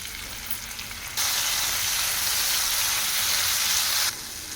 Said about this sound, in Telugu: దోసకాయ ముక్కలు వేసిన తర్వాత ఒక ఫైవ్ మినిట్స్ ఆయిల్లో ఫ్రై చేసుకోవాలి